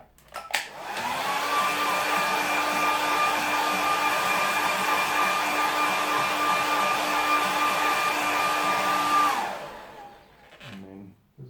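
A hair dryer blows steadily over a watercolour painting, a close, loud, even whir that runs for about nine seconds before switching off and winding down. No one speaks.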